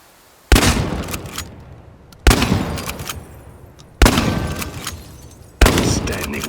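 Four loud, booming shotgun blasts in the video game Chernobylite, each a sharp crack followed by a decaying tail, spaced roughly two seconds apart with no talking.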